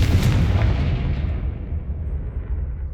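A Confringo fire spell from Hogwarts Legacy sets off a single loud, booming blast that rolls away over about three seconds and fades out.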